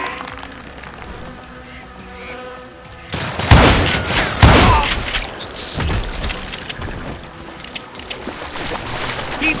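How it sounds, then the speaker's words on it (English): Gunfire in the Western shooter game Call of Juarez: Gunslinger, with loud bursts of shots and booming impacts clustered in the middle, followed by scattered lighter shots and clatter. "Waste your bullets. Go ahead."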